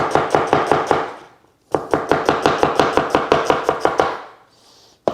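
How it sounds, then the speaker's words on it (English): A knife chops an onion into matchstick strips on a board in two rapid runs of steady, close, crisp strokes, separated by a short pause. "I'm going to stick with this sort of cutting everything like matchsticks type thing, so just cut that real quick"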